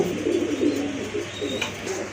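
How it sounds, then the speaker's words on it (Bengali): A pair of large Shirazi pigeons coo in a continuous low, warbling murmur, fairly close, over a steady noisy background hiss. "মাশাল্লাহ আরেক জোড়া সিরাজি কবুতর এটাও কিন্তু অনেক বড় সাইজের কবুতর"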